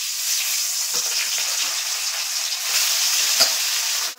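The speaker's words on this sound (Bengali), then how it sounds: "এখন কড়াইতে দিয়ে দেবো সর্ষের তেল মাছ ভাজার জন্য" Fish pieces fry in hot mustard oil in a wok, a steady, close bright sizzle with a few soft scrapes and taps, no talking.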